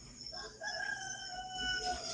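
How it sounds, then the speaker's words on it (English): A rooster crows a drawn-out cock-a-doodle-doo, rising and then holding a long wavering final note, fairly faint and slightly distant against low background noise on a live stream from the Philippines. "You need roosters in the background."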